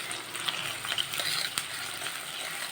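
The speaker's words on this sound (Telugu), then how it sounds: "ఒక టీ స్పూన్ అంత అల్లం వెల్లుల్లి యాడ్ చేసేసి కాసేపు ఫ్రై చేస్తాను." Onion with ginger garlic paste sizzles steadily in a pan for palak chicken, a dense close frying hiss with light scrapes of a spoon stirring through it.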